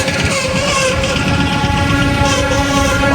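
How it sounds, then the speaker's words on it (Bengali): A local train runs past a railway crossing on a cold day, giving a loud, continuous rumble and drone with a steady tonal whine throughout, and no one speaks over it. "ট্রেন যাচ্ছে, এটা কোনটা যাচ্ছে গো সিনে বাবা? লোকাল।"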